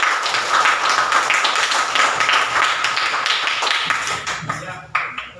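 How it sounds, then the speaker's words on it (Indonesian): Classroom group applauding a student presentation group, a dense burst of hand clapping that fades out toward the end, with voices mixed in. "Beri tepuk tangan dulu untuk kelompok satu"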